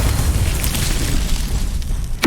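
Confringo fire spell blasting in Hogwarts Legacy, a sustained booming explosive rumble across the whole stretch, ending in a sharp bright burst at the close.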